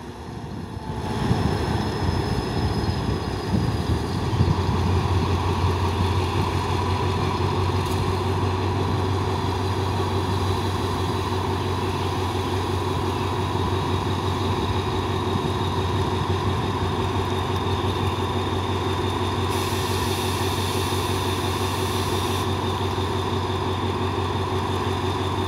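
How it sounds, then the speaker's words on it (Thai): An Alsthom 4401 diesel locomotive hauling a special stone train revs its engine as it departs a railway junction station, a loud, sustained droning rumble with a steady low tone and a brief higher whine midway. "แหมเสียงเร่งเครื่องนี่ฟินจริงๆนะ"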